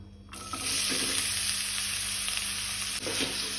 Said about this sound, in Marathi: मिडियम फ्लेमीचेर आमकां कांदो तळसून घेवपाक जाय।